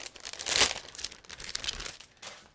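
Plastic bags of model kit sprues crinkle and rustle as they are shifted aside, with a louder burst of crackling near the start followed by softer, uneven crinkles, close and distinct.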